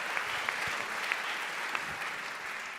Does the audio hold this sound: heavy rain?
no